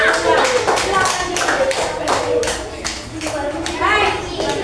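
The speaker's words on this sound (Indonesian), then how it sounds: "Oke, tepuk tangan untuk kelompok." Classroom applause for a group of students, a burst of steady clapping from many hands with a few children's voices mixed in, fairly close and continuous.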